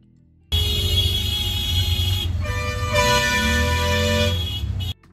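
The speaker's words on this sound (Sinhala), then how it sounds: "පොඩි ට්‍රැෆික් එකක් සෙට් වුණා විතරයි කටි ඔක්කොම හෝන් එක උඩ නැගලා වගේ එක පාරට හෝන් ගහන්න ගත්තා" Car horns blare in a traffic jam, several overlapping honks forming a loud, continuous wall of tooting that starts abruptly and holds for about four seconds before cutting off.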